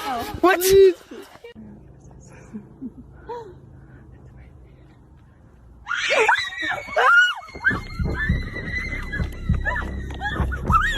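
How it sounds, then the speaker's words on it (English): A sharp, high scream bursts out near the start, then a stretch of quiet murmur before several people shout and yell excitedly together. "The group hears a terrifying scream and runs back to the car."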